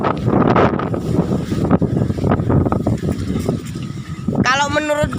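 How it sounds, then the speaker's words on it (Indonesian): Strong gusts of wind in Banyuwangi buffet the microphone with loud, uneven rumbling while a person talks over it. "kita coba jalan-jalan sambil menikmati angin yang kencengnya bukan main."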